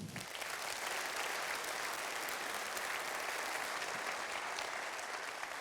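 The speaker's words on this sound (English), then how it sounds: "So give them a round of applause, please." An audience at a conference opening session gives a round of applause: even, continuous clapping from a large room at moderate distance, holding steady throughout.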